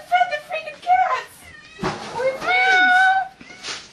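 Cats meow in a garage, several drawn-out, rising and falling cries spaced across the moment, fairly close, with a brief thud between calls.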